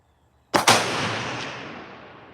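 One loud, sharp rifle shot from a Ruger American Gen 2 Predator bolt-action rifle fired outdoors at a 200-yard target, followed by a long echoing tail that slowly fades.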